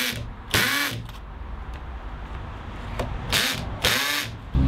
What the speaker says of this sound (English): I'm going to use a very small masonry bit to pilot the holes into the wall